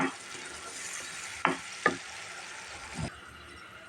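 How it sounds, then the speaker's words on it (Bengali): Potatoes fried in a pan for a sour-spicy prawn and hog plum curry give a soft sizzle, with a few sharp scrape and clatter sounds of stirring. "এই আলুটা এখন আমি ঢেলে দিচ্ছি"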